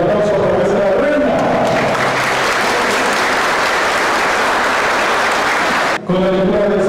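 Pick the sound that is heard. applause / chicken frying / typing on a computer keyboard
applause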